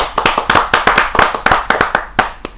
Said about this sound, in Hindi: डॉक्टर ज्योति उपाध्याय, जरा जोरदार तालियों के साथ हम उनका स्वागत करें।